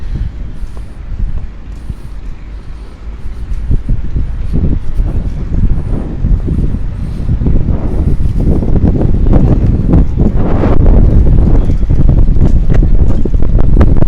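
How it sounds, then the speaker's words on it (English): Strong wind buffets the microphone beside a creek-side bridge park in Yangon, a steady loud roar with gusting rumble that builds and stays heavy throughout, no voices over it. "wind is speeding very high. As you can hear the speed of wind."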